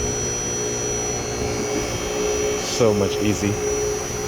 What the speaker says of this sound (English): I'm going to lift up the vehicle now to gain access to the bottom.